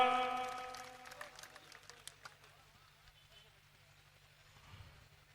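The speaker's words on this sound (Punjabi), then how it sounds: "ਵੇ ਮਾਰ ਦਿਓ ਤਾੜੀਆਂ ਜ਼ੋਰ ਦੇ ਨਾਲ" Audience clapping at a competitive event in Punjab as results are announced, a dense burst of applause strongest in the first couple of seconds, then thinning under a loudspeaker voice and background music.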